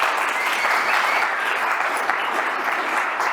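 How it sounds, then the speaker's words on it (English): Steady, dense applause from a conference audience welcoming a speaker at an opening session, continuous and fairly loud throughout with no break. "Please a big round of applause for Jacek."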